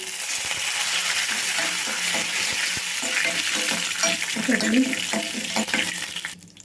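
Curry leaves and lentils fry in hot oil as a tempering for coconut chutney, giving a continuous loud crackling sizzle with scattered stirring taps and pops throughout.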